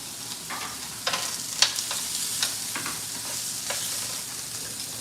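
Georgia sausages frying on a home stove: a steady close sizzle with occasional sharper pops and stirring scrapes, no talking.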